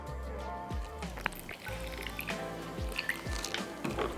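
Apple cider pours into a white sauce, a soft wet trickle with small drips and squishy liquid sounds, close and moderately quiet, with no talking.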